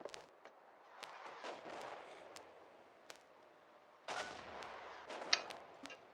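Artillery fire at a front-line artillery position, a series of distant booms and sharp reports scattered irregularly, with a louder burst of firing toward the end.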